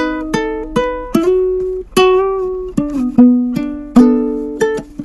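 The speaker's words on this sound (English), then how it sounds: "I busted out an old ukulele that my brother gave me back in the day." An old ukulele recorded on an iPhone and heard alone: a run of about a dozen bright plucked notes and strums, close and clear, each ringing briefly and decaying before the next.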